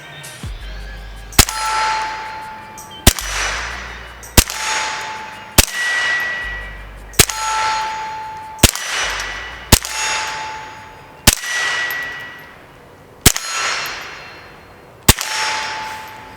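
A Thompson Center TCR-22 .22 rifle firing cheap CCI lead ammo: about a dozen sharp, loud shots at irregular intervals of one to two seconds, each with a ringing tail, and no talking.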